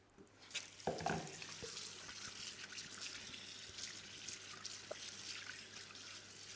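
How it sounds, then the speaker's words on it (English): Tap water runs steadily into a sink while hands are washed beneath it, with a few clatters near the start and a constant broad splashing rush throughout. "Right, I'll just wash my hands."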